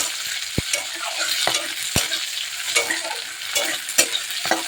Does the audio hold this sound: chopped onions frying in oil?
yes